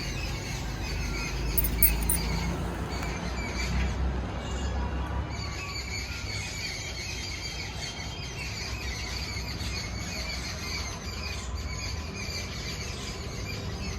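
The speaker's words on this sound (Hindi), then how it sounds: "यहाँ पर देखिए पक्षियों की आवाज़ आ रही है बड़ी प्यारी" Birds call from the trees outside a home, faint chirps and squeaks scattered over a steady low background hum, with no talking.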